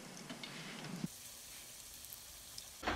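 Breaded striped bass fillets fry in a skillet, giving a faint, steady sizzle with a few soft clicks and a brief louder rustle at the end.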